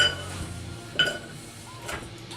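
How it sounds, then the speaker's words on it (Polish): Chopped parsley root and potato pieces tipped into a cooking pot, giving a few light clinks and soft knocks of food and utensil against the pot, quiet and close in a kitchen. "Przerzucamy to do garnka."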